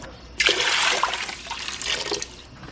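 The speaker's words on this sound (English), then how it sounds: "So first I have to add 8 cups of water." Hot water pours steadily into a Nesco electric canner pot, a loud close splashing and rushing stream that starts abruptly and carries on for a couple of seconds, with no talking.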